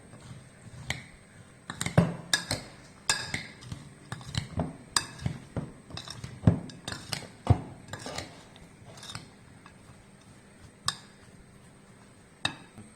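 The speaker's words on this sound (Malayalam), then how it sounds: "അപ്പം നമ്മളിത് നല്ലോണം മിക്സ് ചെയ്യണം." Mango pickle being mixed with oil in a bowl, a series of close clinks, taps and scrapes of a spoon against the dish at an irregular pace, fairly quiet.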